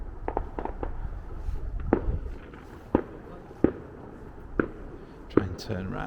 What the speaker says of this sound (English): Amazing, you hear a load of banging going on,